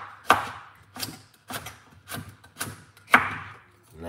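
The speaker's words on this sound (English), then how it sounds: "let's cut up these" A knife chops ingredients on a cutting board for an onion, pineapple peel and honey mix, with about seven distinct, evenly spaced thuds and close, crisp impacts in an otherwise quiet kitchen.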